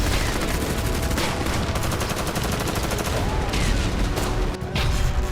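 Sustained heavy gunfire from fighting near Tishrin Dam in Syria, with dense overlapping bursts and rapid automatic volleys rolling continuously, loud and close.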